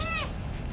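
A rescued kitten gives one short, high meow close by at the very start, then the sound trails off into soft indoor background noise.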